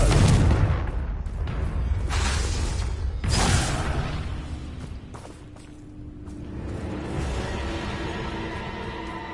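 Blasting spell explosions in Hogwarts Legacy on PS5, several deep booming blasts with whooshing bursts, the strongest near the start, followed by a lingering rumbling tail and quieter game ambience.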